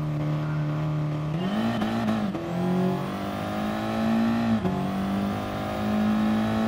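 Ferrari race car in GT Sport, engine revving and accelerating steadily through gear shifts, a loud continuous whine rising and dipping with each change.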